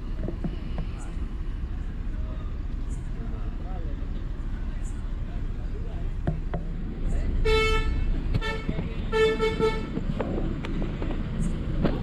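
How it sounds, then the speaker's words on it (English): A sleeper bus horn honks in a few repeated toots at a moderate distance, over steady traffic and engine rumble at a busy roadside stop in India. "one of the buses is started honking for its passengers to come in"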